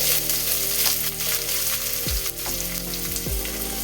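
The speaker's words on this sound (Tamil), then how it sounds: "பச்சை மிளகு செவத்ததும் கட் பண்ணி வச்ச வெங்காயத்தை போடணும்" Chopped onions frying in hot oil with mustard seeds and green chillies, a dense continuous sizzle close up with a couple of dull scraping stirs partway through.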